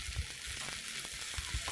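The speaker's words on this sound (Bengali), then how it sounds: "এখন আমি শাক ভাজি করার জন্য চলে আসছি" Leafy greens frying in a pan with chopped garlic, onion and dried chili, a steady hiss of sizzling with soft low stirring knocks, close and alone.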